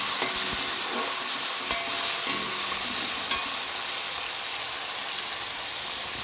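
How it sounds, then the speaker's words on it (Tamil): Tomatoes and onions sizzle and hiss in hot oil with occasional stirring scrapes, the frying fading slightly as it goes. "இப்போ நறுக்கி வச்சு தக்காளியை போட்டுருவோம் தக்காளியும் கொஞ்சம் வதங்கணும்"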